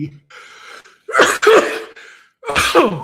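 A single sharp sneeze, with a quick gasping intake before it, followed by a short murmured voice.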